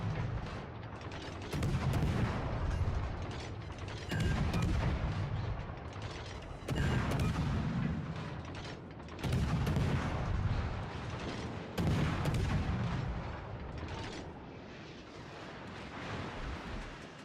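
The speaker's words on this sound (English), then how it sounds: "Let's just gun him down." Video game gunfire rings out in heavy, booming bursts roughly every two to three seconds, each a dense blast of shots followed by a brief lull, loud and close with no voices over it.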